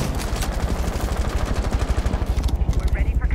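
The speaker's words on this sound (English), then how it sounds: "Yeah, I was shooting my shotgun." Rapid, loud gunfire in a Rainbow Six Siege border match, a dense rhythmic string of close shots pounding without pause, trailing into a few separated blasts.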